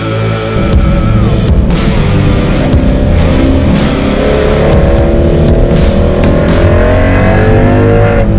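A Ford Mustang accelerating on the road between Townsville and Brandon, its engine rising steadily in pitch through the gears, loud and close, with a continuous droning hum and no talking.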